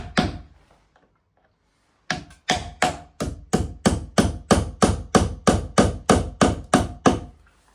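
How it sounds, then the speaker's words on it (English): A steady series of about fourteen sharp hammer blows driving a plastic wall plug into a solid wall, close and evenly spaced, after a brief quiet stretch at the start. "we can hammer that into place"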